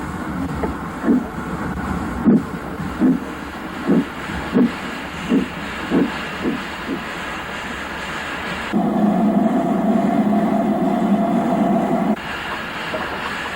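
A Pacific steam locomotive, City of Nottingham, draws into Carlisle station with a run of rhythmic chuffs that slow and fade, followed by a loud, steady steam hiss.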